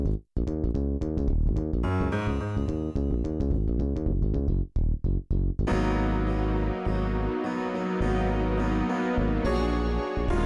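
A Korg Nautilus keyboard plays a split sound, its bass voice transposed an octave lower, carrying chords over a low bass line that sustains loudly without a break after a choppier opening.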